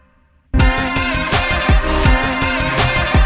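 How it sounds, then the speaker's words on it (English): After a brief quiet moment, a loud drum fill of chopped toms, a marching drum and snare erupts over a punchy slap bass line, dense and rhythmic. "a mix of a bunch of chopped up toms, another marching drum, a snare"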